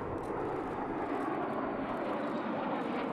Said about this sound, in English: 4 L-39s soared by with one peeling off in the missing man